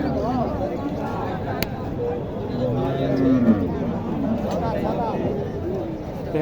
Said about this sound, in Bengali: দেখেন এই যে গরুটি